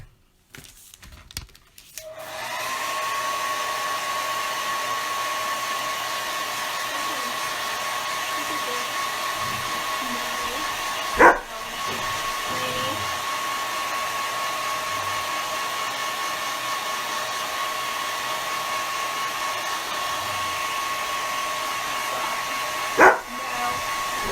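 A hair dryer blowing on a freshly painted Dollar Tree DIY scale starts after a brief clatter, then runs as a steady, close, continuous whine, with a couple of sharp knocks along the way.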